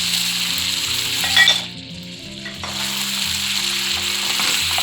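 Chicken pieces frying in a pan with soy and tomato sauce for Sri Lankan devilled chicken, giving a steady close sizzle with a brief stir and a short dip partway through.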